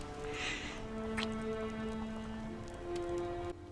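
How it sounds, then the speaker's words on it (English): Steady rainfall patters softly behind a TV drama scene, a continuous hiss under sustained low tonal music, with a brief faint rustle early on. "A lovely sound design with the rain in the background."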